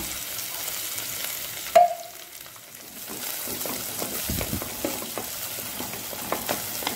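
Ingredients for a Karavali-style chicken garlic roast, with curry leaves and coriander, sizzle and crackle in a pan as they are stirred, a sharp clank early on and a steady frying hiss continuing throughout.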